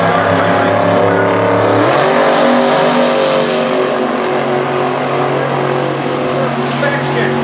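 A 1989 Camaro in a Super Gas drag race roars loud and close, a sustained engine blare that drops in pitch as it shifts, with an announcer talking over it.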